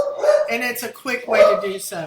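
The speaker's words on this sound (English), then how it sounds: "Sorry about my dogs." Indoors, dogs bark and yip in short bursts, mixed in with a person talking close by.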